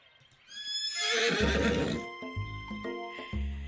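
A horse in a video game lets out a loud, close whinny that rises and trails off, followed by several short snorting, hoof-like bursts, with no talk.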